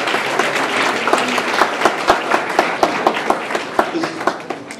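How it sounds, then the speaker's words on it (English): Audience at a community planning charrette for the Eden Area Livability Initiative bursts into sustained applause, dense clapping from a crowd in a meeting hall with a few sharper individual claps standing out, loud and continuous. "Let's give these folks a round of applause."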